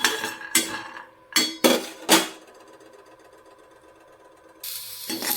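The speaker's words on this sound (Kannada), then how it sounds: "ಅದಕ್ಕೆ ಶೇಂಗಾ ಹುರ್ಕೊತಿದ್ದೀನಿ." Peanuts roasting in a pan for red chutney, with several loud metallic clanks and scrapes of a utensil against the pan spaced through the first two seconds, then a quieter stretch and a renewed rattling near the end.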